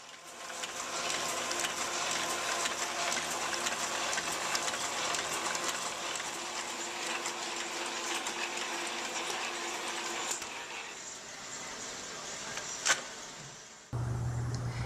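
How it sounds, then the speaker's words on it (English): A machine prints round vinyl record labels with a steady, busy mechanical whir and rattling ratchet clatter, close and continuous, then stops abruptly near the end, leaving a low hum. "This machine is printing the round labels that will go in the center of each record on each side."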